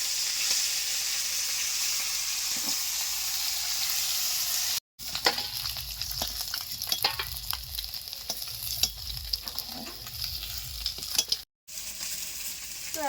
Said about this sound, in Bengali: এক করে সব মাছগুলো ভাজা কমপ্লিট হয়ে গেছে